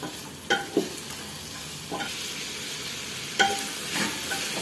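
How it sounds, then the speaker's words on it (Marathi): Vegetables with salt are stirred in a pressure cooker for veg pulao, several distinct spoon scrapes against the metal over a soft continuous sizzle, close and unaccompanied by speech. "परत एकदा आपण हे 2 मिनिट असं व्यवस्थित मिक्स करून घेऊया"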